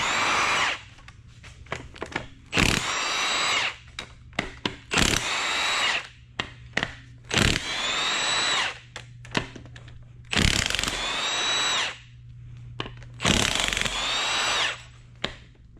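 Impact wrench zipping bolts out of a junkyard LS 6.2L engine, loud close bursts of rattling hammering, each lasting one to two seconds, repeated about six times with brief gaps between.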